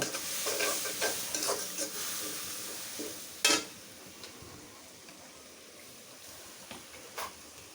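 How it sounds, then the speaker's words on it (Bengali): Stir-frying tomato, ginger-garlic paste, salt and chili powder with a splash of water in a pan for a rita fish curry: scattered scraping stirs over a low, steady sizzle, with one sharper clatter midway. "রান্না মশলাটা ভুনে নিয়ে তারপরে মাছ দিব"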